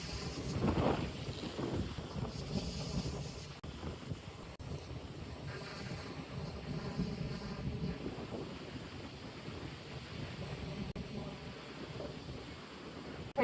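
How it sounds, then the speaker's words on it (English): Wind blows outdoors, buffeting the microphone in a steady broadband rush with gusty swells, fairly faint overall. "So it's windy."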